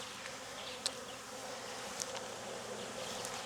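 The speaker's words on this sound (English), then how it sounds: "These are nice bees so far." Faint, steady drone of a honeybee swarm being hived by a beekeeper, a low continuous hum with a couple of brief sharp clicks close by and no voices.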